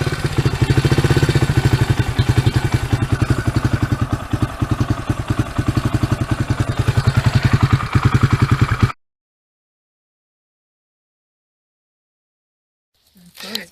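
A Suzuki DR200SE dirt bike single-cylinder engine idles steadily after an oil and filter change, a close, even putter for about nine seconds before cutting to silence.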